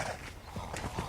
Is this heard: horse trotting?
yes